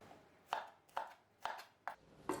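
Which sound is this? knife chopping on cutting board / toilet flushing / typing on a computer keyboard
knife chopping on cutting board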